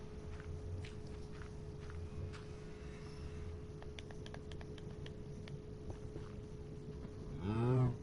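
Blocky cartoon cow in a Minecraft-style server game lets out a single short, loud moo near the end, rising over steady game ambience and scattered footsteps.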